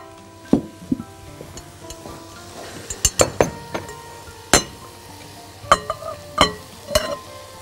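Food with a pinch of pepper being stirred in a bowl, with sharp clinks and scrapes of a utensil against the bowl in irregular bursts, close and fairly loud, no talking.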